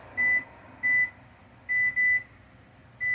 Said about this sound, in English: let me set the timer while I'm thinking about it